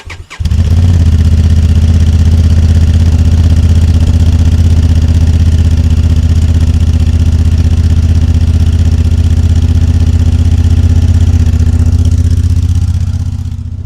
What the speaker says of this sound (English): I'm gonna leave the mic down here for you and start it up